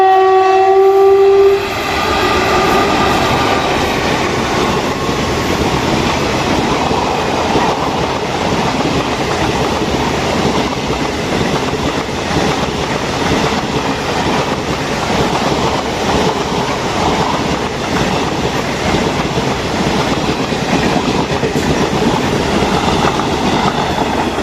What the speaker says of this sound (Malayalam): തിരുവനന്തപുരം എറണാകുളം വഞ്ചിനാട് എക്സ്പ്രസ് ആട്ടോ